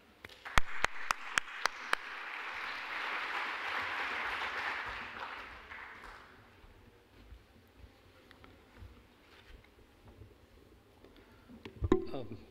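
An audience at a conference session applauds to welcome a speaker. The clapping is soft and distant, swelling for a few seconds and then fading away, with a few sharp clicks near the start and end.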